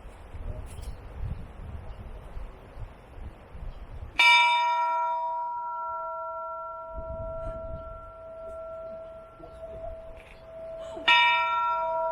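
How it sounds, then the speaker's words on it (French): The Ryuren no Kane, the bell of love at Enoshima in Japan, is struck twice about seven seconds apart. Each clear metallic strike rings out and slowly fades, with light wind and outdoor rustle between the strikes. "cette cloche derrière moi est la cloche de l'amour"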